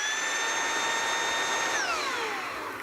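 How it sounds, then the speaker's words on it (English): A lightweight vacuum cleaner running with a steady high-pitched whine over a broad rushing airflow, close and even, then the pitch slides downward near the end as the motor winds down; no talking. "It actually kind of sounds like a jet plane. So this is going to be one of the vacuums."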